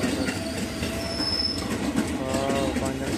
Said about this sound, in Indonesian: Wow nih KRL-nya mulai berjalan teman-teman.